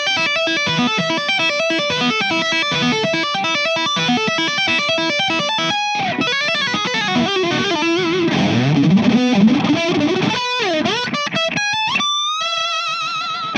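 Distorted, effects-laden electric guitar plays Wolfgang Van Halen's "The End", moving from dense fast riffing into bends and pitch-swooping dive effects, ending on sustained ringing notes, loud and continuous with no voices.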